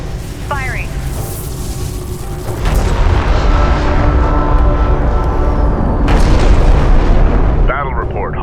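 Artillery fire in Homeworld: Deserts of Kharak: a heavy rumbling barrage swells and holds loud for several seconds, with radio chatter before and after.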